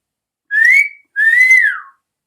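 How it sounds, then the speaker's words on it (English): Two clear whistled notes from a person, the first a short level tone and the second longer and sliding downward at the end, loud and close with silence around them. "Mean Malcolm saw him coming and whistled."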